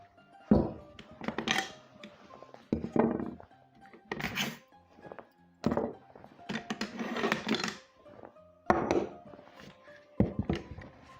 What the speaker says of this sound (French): Maintenant, on va chasser la goupille.